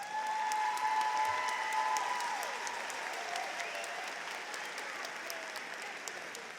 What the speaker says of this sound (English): Commencement, I think that deserves an applause.